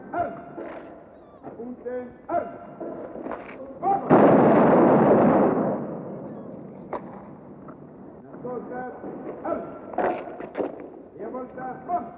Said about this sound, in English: Battery 2, fire! Battery 4, fire!